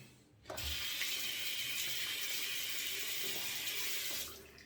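Water runs steadily from a tap as a shaving razor is rinsed, a bright continuous splashing hiss close by that starts abruptly and fades out near the end.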